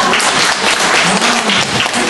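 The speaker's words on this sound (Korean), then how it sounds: "영어 선생님들에게 위로의 박수를" A lecture audience gives loud, dense, continuous applause for English teachers, steady and close, with a low voice faintly under the clapping.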